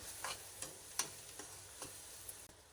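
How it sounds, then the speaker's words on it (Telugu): Onions with turmeric frying in a pan, a faint low sizzle with a few soft clicks of stirring scattered across a quiet background. "ఇప్పుడు దీన్ని మంచిగా ఫ్రై చేసేసుకుందాం"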